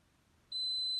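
After a moment of quiet background hum, an Indesit Moon washing machine gives a single high, steady electronic beep at the end of its cycle that starts abruptly and keeps sounding.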